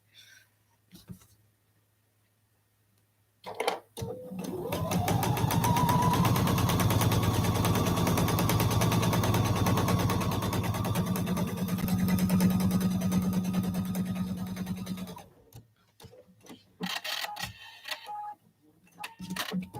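Domestic sewing machine stitching a quilt sampler block, running steadily and close for about eleven seconds with a constant whirring drone, then stopping, with brief handling noises before and after.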